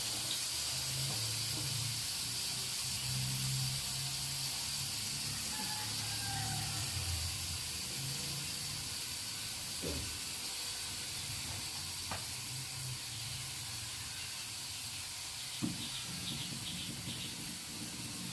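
Lentils simmer in a pot on a gas stove turned very low, a faint even hiss of steam and gentle bubbling that continues steadily with an occasional small tap.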